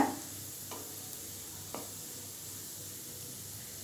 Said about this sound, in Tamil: முள்ளங்கி இது மாதிரி நல்லா கலர் மாறுற வரைக்கும் நல்லா வதக்கிக்கோங்க.